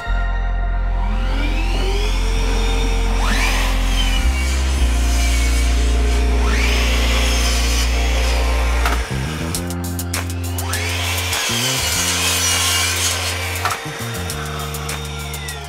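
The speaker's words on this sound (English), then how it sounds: "get this cut on the mitre saw" A mitre saw cuts wood in a workshop: a loud, continuous motor whine that shifts pitch as the blade bites and spins down, with a second cut following, close and without speech.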